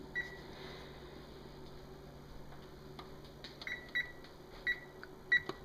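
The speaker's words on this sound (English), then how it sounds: "I just want to set the oven to 350 for 1 hour" An oven control panel being set to 350 degrees for one hour gives a handful of short, clear electronic beeps at irregular intervals over a low steady kitchen hum.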